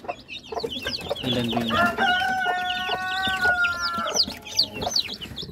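Rhode Island Red hens clucking with a rooster crowing a long cock-a-doodle-doo in the middle, soft chick peeps mixed in, close and busy, with a brief spoken phrase at the start.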